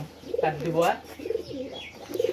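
Newly caught pigeons coo in short low rolling phrases, close by, with a voice speaking briefly over the calls.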